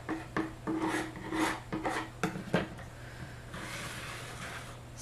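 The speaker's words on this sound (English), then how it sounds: "I'm going to burnish the tape up against the chipboard edge" Tape being burnished against a chipboard box edge, producing soft, close rubbing and rasping strokes in a steady back-and-forth rhythm that fades into a quieter continuous scrape.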